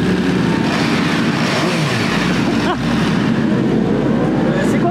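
Motorcycle engine revving in the pit lane at the Nevers Magny-Cours circuit, loud and close with throttle blips and a rising rev, while someone talks over it.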